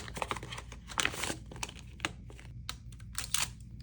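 Paper cash bills being handled and counted out for envelope stuffing, crisp irregular rustles and flicks close up, quiet, with no talking.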